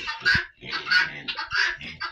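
Adult hens clucking in short bursts close by, several birds overlapping with brief pauses between calls.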